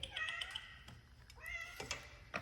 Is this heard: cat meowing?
yes